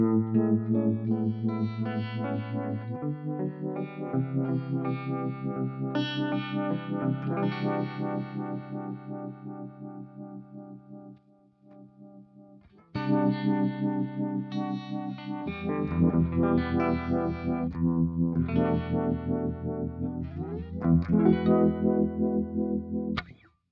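An electric guitar plays chords and sustained notes through a Danelectro Univibe clone pedal with a Cool Cat Vibe mod at slow speed, a warbling, slowly pulsing modulation with some grit, with a brief quiet pause midway.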